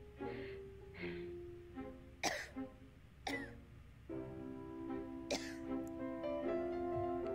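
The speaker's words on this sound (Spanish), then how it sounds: "Tose." A character in the Card Shark video game coughs in several short, harsh bursts spread over a few seconds, heard over soft sustained background music.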